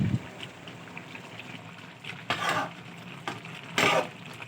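Coconut milk fries in a pan, turning oily. A soft, steady crackle runs underneath, broken by a few louder bursts of sizzling and stirring scrapes, close by.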